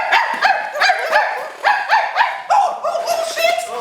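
A man imitates a dog with his voice, giving a quick run of loud, yappy barks and yelps close to the microphone during an acting class rehearsal, with no other sound behind him.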